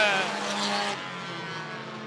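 Race cars roar away together at the green flag of an oval race, a loud broadband engine wash that dips after about a second but stays steady, with a commentator's voice over it.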